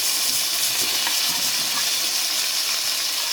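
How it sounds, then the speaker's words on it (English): Onion, tomato and green peppers sizzle in hot oil in a pan for Jamaican brown stew fish, a steady, loud frying hiss that holds without a break and has no voices over it. "I'm putting my vegetable in. This is my onion, my tomato, my green pepper"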